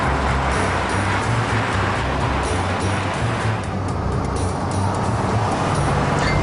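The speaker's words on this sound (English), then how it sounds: "the steering feel is actually very good, and the throaty V6 encouragingly powerful" A Reliant estate car with a throaty V6 engine driving along, its steady low engine drone and road rumble continuous and loud throughout, with no voices.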